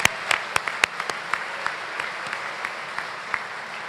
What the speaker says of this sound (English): Let's give all of them a round of applause as well.